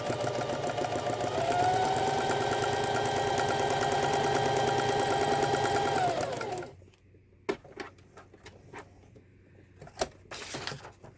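A sewing machine stitches without thread in a steady, fast mechanical whir for about six seconds, then stops, leaving faint clicks and small handling sounds.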